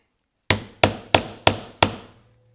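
A hammer drives a six-tine leather punch into a belt strap with five sharp, evenly spaced strikes, each ringing briefly and decaying before the next, close and loud with no talking.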